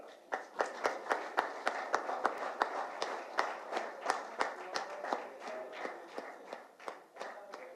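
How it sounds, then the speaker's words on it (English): Audience clapping at a Continental Hospitals and Hyderabad Football Club jersey launch event, a sparse, uneven patter of individual hand claps rather than dense applause, moderately near and continuing steadily throughout. "I just urge to keep the clapping going around"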